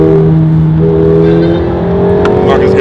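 A McLaren 720 races a Hellcat, with loud, close, sustained engine drone as the cars accelerate and rev, the pitch climbing steadily. Voices talk over the engine noise.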